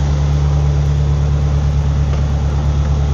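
A Mitsubishi 4G63 car engine with a fuel leak idles at lowered revs, a loud, steady low hum running unbroken throughout with no talk.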